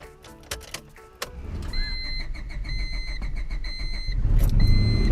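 A car engine starts: after a few clicks and chimes, the starter cranks and the motor catches into a rising idle rumble, with dashboard warning beeps continuing over it.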